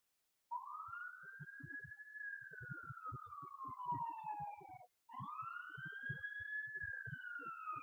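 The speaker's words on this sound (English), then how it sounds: "ignore those sirens outside that are apparently coming right near my apartment" A police siren wails outside an apartment, rising and falling in long sweeps, briefly cutting out before starting again, with a faint rhythmic thumping beneath; no one speaks.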